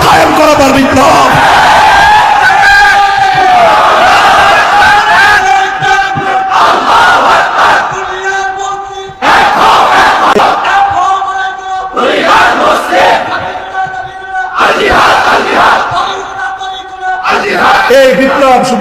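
A large crowd at a political rally chants slogans in unison, loud and close, with rhythmic bursts of massed voices separated by brief pauses.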